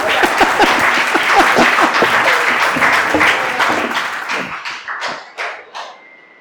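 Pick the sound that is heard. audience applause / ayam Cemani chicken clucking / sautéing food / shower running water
audience applause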